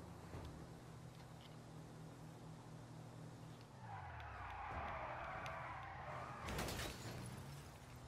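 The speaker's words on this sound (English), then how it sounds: "That drift was awesome." A car drifts in GTA V with tyres screeching and skidding over a steady engine drone. The engine pitch drops partway through and is followed by a sharp crash-like burst near the end.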